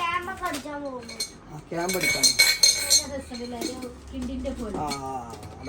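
A small stylish stainless steel pressure cooker handled in a kitchen store, giving a few metallic clinks and knocks in the middle while a person talks over it nearby.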